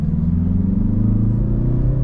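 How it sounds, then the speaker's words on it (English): A 2025 Mazda 3 hatchback, top trim with a 2.5-liter four-cylinder turbo, pulls away with a steady, loud low engine drone that rises gradually in pitch as it gains speed, heard from inside the car. "setting off now into the 2025 Mazda 3 hatchback. So this is the top trim level with the nice little turbo engine"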